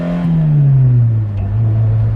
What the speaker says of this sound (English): Lampredi's 4-cylinder overhead cam engine, proper Italian engineering.